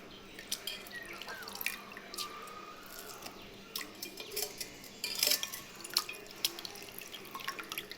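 Leftover cooked rice squeezed by hand in a kitchen, with water dripping and splashing back into the vessel in quick, irregular drops and trickles, close and soft, with a few light clinks and no voice.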